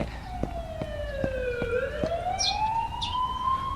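An ambulance siren in the video game The Coma wails in rising and falling tones while a sharp rhythmic pulsing sounds under it, fairly close and continuous.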